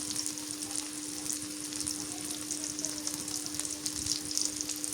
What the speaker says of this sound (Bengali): পেঁয়াজ কুচি দিয়ে দিই হ্যাঁ টমেটো কষান করে দিই